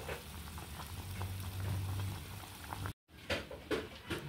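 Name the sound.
turkey meat boiling in a pot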